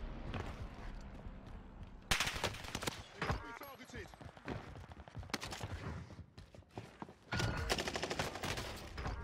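Gunfire in the Warzone video game comes as bursts of loud, sharp, rapid shots that stop and restart, with other game sounds in the gaps between them.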